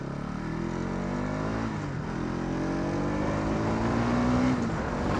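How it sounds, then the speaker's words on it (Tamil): A Bajaj Pulsar NS 200 BS6 motorcycle engine drones steadily, its pitch sliding down and climbing again as gears are changed down, with a brief rising rev near the end. "கியர் டவுன் பண்ண வந்து பார்த்திங்கன்னா அந்த சவுண்டே வேறு லெவலில் இருக்குது"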